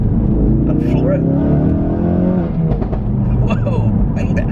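A Ford Focus RS with a Mountune sports cat and MSD420 upgrade rated at 420 hp accelerates hard at full throttle, engine note rising steadily and loud from inside the car, with talk over it.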